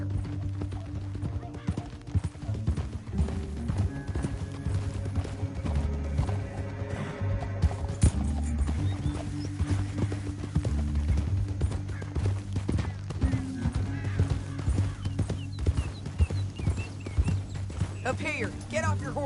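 Horse hooves clip-clop steadily in the Red Dead Redemption 2 video game, a continuous rhythmic patter of hoofbeats under game music and characters talking throughout.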